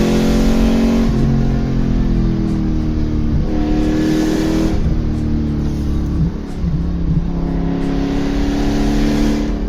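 An Alfa Romeo Montreal's 200-horsepower V8, redlining near 7000 RPM, revs loud and close in a sustained, richly harmonic roar that swells and dips several times, with no talking.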